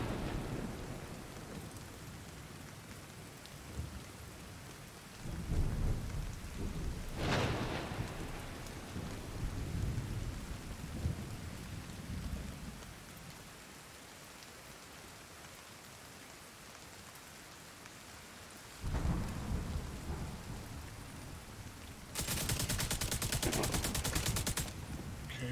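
A thunderstorm in The Division 2 video game: steady rain hisses throughout while several loud thunder cracks and rumbles break in at intervals, with no talking.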